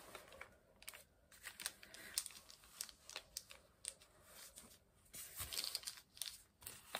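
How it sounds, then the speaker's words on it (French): Soft, faint crinkles and rustles come from a wet sheet of paper being handled while painting with inks and water, in scattered irregular bursts. "J'adore le bruit du papier."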